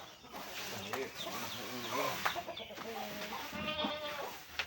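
Goats bleat repeatedly nearby, overlapping wavering calls over a low outdoor background, with faint talk and other farm animal sounds mixed in.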